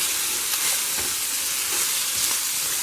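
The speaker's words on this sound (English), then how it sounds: "So now I'm going to add to the pan the steak meat." Steak meat frying in a non-stick skillet sizzles loudly and continuously, with a few soft pops and stirring scrapes from a rubber spatula close by.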